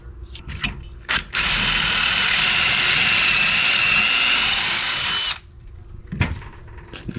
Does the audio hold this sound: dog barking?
no